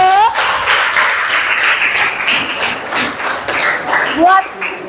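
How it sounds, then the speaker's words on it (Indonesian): Students in a teacher-training classroom clap together, a moderate burst of applause mixed with voices talking over it. "Yuk kita beri tepuk tangan dulu."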